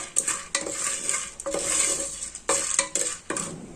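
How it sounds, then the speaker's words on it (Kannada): Chili powder, salt and turmeric being stirred in a pressure cooker over a low flame, with a spoon scraping and clinking against the metal pot in repeated strokes alongside a soft sizzle, close and fairly quiet, no talking. "ಖಾರ ಮತ್ತು ಉಪ್ಪು ಮತ್ತೆ ಅರಿಶಿನ ಮಿಕ್ಸ್ ಮಾಡ್ಕೋಬೇಕಾಗುತ್ತೆ ಇದು ಲೋ ಫ್ಲೇಮಲ್ಲೇ ಇರಲಿ ಮಿಕ್ಸ್ ಮಾಡ್ಕೋಬೇಕಾದ್ರೆ"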